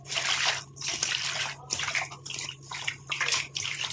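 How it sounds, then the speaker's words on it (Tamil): Freshly pulled, soil-covered leaves being washed by hand in a vessel of water, rhythmic sloshing and splashing in repeated bursts with brief pauses, close up, no talk. "நம்ம தண்ணிக்குள்ளே போட்டுட்டு எல்லாத்தையும் வாஷ் பண்ணிட்டு எடுத்துக்கலாம்"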